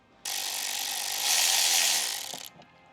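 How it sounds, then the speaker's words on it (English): A ratchet works a 10mm bolt loose in the engine bay of a Genesis G70, a single fast, close burst of clicking that lasts about two seconds and stands alone. "I'm gonna remove this 10mm bolt right here, and that should give me a good amount of space to get to that clamp"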